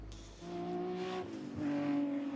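BMW touring race cars, among them a CSL, roar past on the Spa circuit in a Heritage Touring Cup race, with engine pitch swinging through gear changes as they go by.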